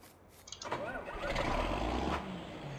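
A John Deere tractor engine in a farming game starts up and settles into a steady, rumbling run, fairly close and alone.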